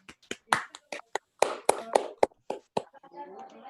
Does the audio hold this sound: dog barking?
no